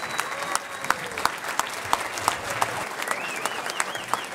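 A standing crowd at a patriot gala in Lawrence, Massachusetts applauds Officer Farrington, a sustained wash of clapping punctuated by regular sharp claps, with faint whistles and murmuring voices mixed in.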